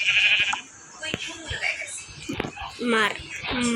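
Several sheep bleats in Minecraft, wavering and nasal, mixed with clicks and other busy game sounds, fairly loud and close.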